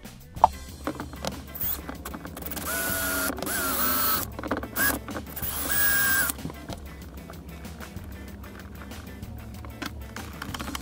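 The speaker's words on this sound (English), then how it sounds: "that only took a minute or two to put those two screws in" A drill drives two screws into an RV overhead door panel, making bursts of high whining motor noise with clicks and knocks in between, close and moderately loud.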